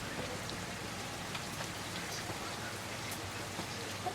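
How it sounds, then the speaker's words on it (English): Steady rain pattering down in a garden, a constant even hiss of drops on surfaces with no break, fairly close and filling the whole scene. "Oh, it's raining as well."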